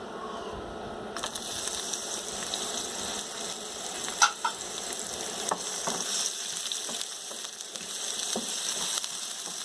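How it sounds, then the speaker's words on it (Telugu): Thin rounds of snake gourd frying in oil in a pan give a steady close-up sizzle with occasional stirring scrapes and small clinks, no voices over it. "ఇప్పుడు అందులో సన్నగా చక్రాల్లా కోసి పెట్టుకున్న పొట్లకాయ ముక్కలు వేయాలండి."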